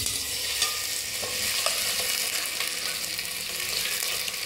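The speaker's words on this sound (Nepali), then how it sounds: "अब यो तेल तातिसकेको छ, लाइट आयो, मैले यसलाई अब यो अघिको मोलेको मासुहरू हाल्दैछु, कुकरमा राख्दैछु।" Marinated mutton sizzles and fries in hot oil inside a pressure cooker, a steady loud crackling hiss with occasional stirring clinks, close up and without talk.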